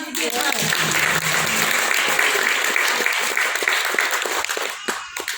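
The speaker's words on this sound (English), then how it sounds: "How about a round of applause?" An audience applauds loudly at a Maori warrior cultural performance, a thick burst of clapping with a few voices, tapering off near the end as it breaks into scattered claps.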